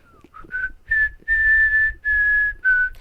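Someone whistles a tune as part of a whistling game, a run of clear, close, sustained notes broken by short gaps, with nothing else heard.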